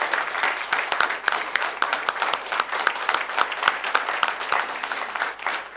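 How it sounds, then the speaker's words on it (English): Enthusiastic audience applause for a lifetime achievement award at a business gathering, with many sharp individual claps standing out in a dense, sustained ovation. "a big round of applause for Mr. Kanwal Rekhi."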